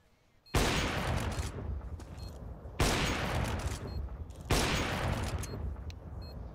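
Three loud bursts of gunfire ring out in Counter-Strike on the Inferno map, each a sharp onset followed by a rattling, decaying fusillade, evenly spaced.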